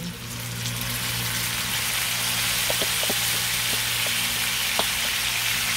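Tomato and onion compote sizzles steadily in a hot pan, a loud continuous frying hiss with a few small pops and crackles near the end, no voices over it.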